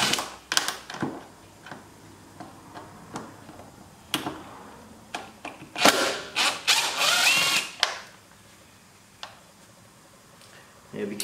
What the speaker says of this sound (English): I will use my drill driver for this,